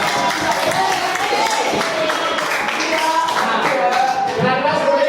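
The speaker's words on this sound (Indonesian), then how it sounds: "Tepuk tangan untuk Madura." Applause from a classroom audience for Madura during a lesson on local culture, a steady dense patter of many hands clapping with some voices mixed in throughout.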